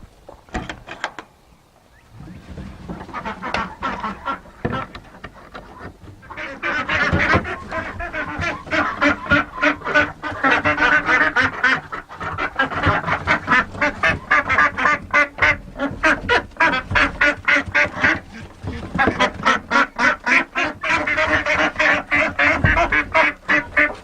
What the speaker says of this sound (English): Let's let the ducks out.